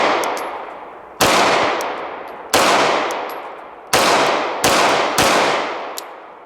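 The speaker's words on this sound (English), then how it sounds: "So I've shot 5-6 rounds" Five sharp 9mm shots from a Sig Legion pistol crack out at an uneven pace, each report loud and close with a ringing decay into range ambience.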